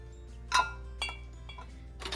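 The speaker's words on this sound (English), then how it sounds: "we're just gonna pop our lids on here" Metal canning lids set onto glass jars of beef broth, giving a few separate light clinks spaced about half a second apart, close by and fairly soft.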